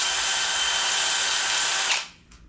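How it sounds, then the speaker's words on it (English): A power drill whirs steadily, spinning a taper tool against a wooden arrow shaft, loud and close, then winds down abruptly near the end. "It's on a drill,"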